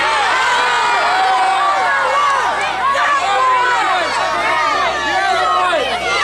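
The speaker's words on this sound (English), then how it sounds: "Are you booing the masterpiece?" A live wrestling crowd at a wrestler's match fills the arena with loud, continuous roaring and shouting that reads as booing and jeering, a dense wall of many voices throughout.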